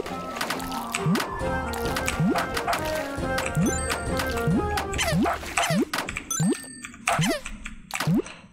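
A dog in the video game For Fox's Sake gives a string of repeated barks, with bouncy rising game effects and background music between them.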